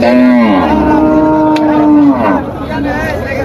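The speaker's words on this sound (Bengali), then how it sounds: "এই হচ্ছে দেশাল জাতের গাভী" A red Deshal breed cow at a busy cattle market gives one long, loud, close moo that lasts about two seconds, then quieter crowd noise continues.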